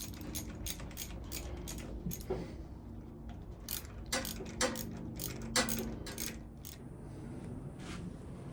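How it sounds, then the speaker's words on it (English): A small ratchet with an 8mm socket loosens the carburettor on a 1986 Honda CT110 motorcycle, giving a close, quiet series of rapid clicking bursts in an uneven rhythm. "So we got a 8mm socket. Always handy to have a smaller ratchet to get into these tight spaces."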